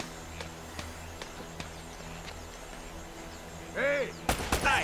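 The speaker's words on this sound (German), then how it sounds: "Also die schießen extrem amerikanisch. Viele Schüsse, wenig Treffer." Sharp gunshots crack in a quick irregular series over a steady background hum, from the video game Uncharted: Drake's Fortune Remastered.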